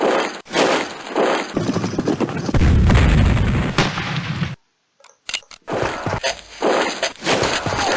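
Howitzer artillery fire in Civil War Generals II, with repeated loud cannon booms and crackling bursts, a long rumbling blast midway, then a sudden silence before further booming shots.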